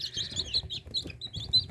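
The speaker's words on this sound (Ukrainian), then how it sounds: "Ну, загалом дуже-дуже красиві і дуже цікаві пташеня." Naked neck chicken chicks chirp together in a brief burst of high, rapid peeps, close and fairly loud, with soft low rustling beneath.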